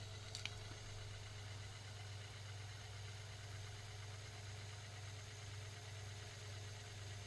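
A Spectrum +2 tape drive spindle runs with a low, steady mechanical hum and faint whirring, a close continuous drone with a small click near the start.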